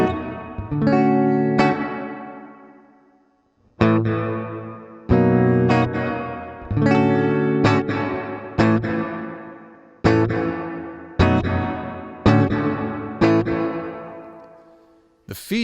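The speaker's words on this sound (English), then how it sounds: "The feedback knob adjusts the decay length of the reverb. So this is a short decay." Electric guitar chords strummed one after another through a Source Audio Collider reverb pedal set to a short decay, each ringing briefly with a short reverb tail that dies away before the next strum.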